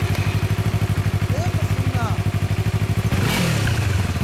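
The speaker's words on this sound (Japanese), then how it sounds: "オッケー、エンジン音聞かせてもらえる？" 2015 Yamaha MT-03 motorcycle engine with a Nojima exhaust idling close by in a rapid, even pulsing rhythm, followed by a short sharp rev near the end.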